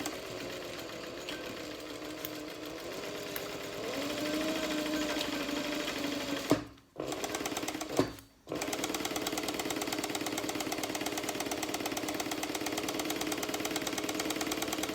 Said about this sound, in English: I'm just lining my presser foot up against the edge of the fabric.